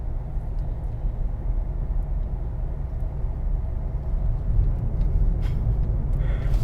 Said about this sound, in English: I just hear a lot of noise from the road, because the roads here in Miami are pretty crappy